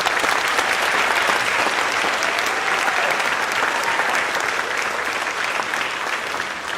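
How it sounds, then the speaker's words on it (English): Dense, sustained applause from a large audience at a board of education meeting honoring students, loud and even across the whole stretch, with a slight easing toward the end. "Can we get one more round of applause for all of our students?"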